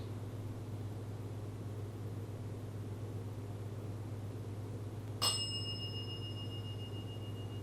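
A single bell ding in an 1858 hotel, one bright strike with a ringing tail over a steady low hum, moderately close, with no talking.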